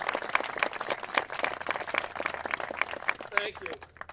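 Audience applause welcoming a Cleveland Indians pitcher at a park event honoring CC Sabathia, steady clapping from a modest crowd, with a voice briefly heard near the end.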